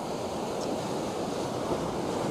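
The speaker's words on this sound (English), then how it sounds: "Check out that wave rolling in." Surf on a Queensland, Australia coastline rolls in as a continuous low roar of breaking water, steady and fairly close, with wind noise on the microphone.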